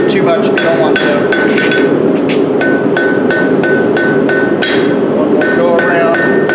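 Blacksmith hammering a taper on a ball-ended leaf hook, sharp ringing blows on the anvil at a steady quick rhythm over a constant roaring forge background, loud and close.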